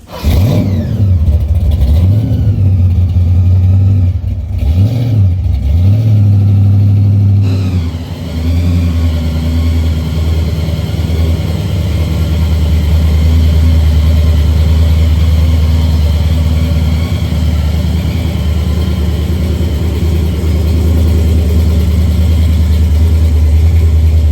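A 1957 Chevrolet's engine drones loud and close inside the car, rising and falling in revs over the first few seconds, then settling into a steady, heavy rumble that holds to the end.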